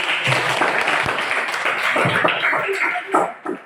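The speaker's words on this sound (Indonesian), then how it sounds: "Tepuk tangan dulu" Classroom applause from students after an answer about the brain as the coordination centre, a steady wash of clapping with voices mixed in, ending in a few scattered claps.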